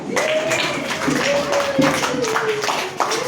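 Children clap together at a school science-of-living activity, a loose patter of hand claps under a sustained tone, with a few louder individual claps standing out.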